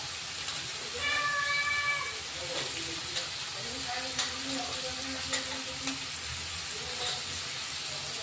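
Onions and tomatoes sauté in a pan with spices, a soft steady sizzle and stirring running through, with faint higher tonal sounds drifting in the background.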